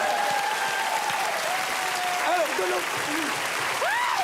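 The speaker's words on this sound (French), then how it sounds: "Vous pouvez l'applaudir." A studio audience on a French celebrity television show applauds in a steady, dense wash, with voices speaking over the clapping.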